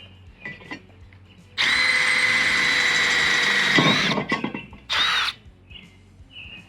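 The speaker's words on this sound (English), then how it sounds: "I'm gonna try with a regular drill bit, just drilling a little pilot hole" Power drill boring a pilot hole with a regular drill bit, a loud whining burst of about two seconds that bogs down and stutters, then a shorter second burst, with quieter handling noises before and after.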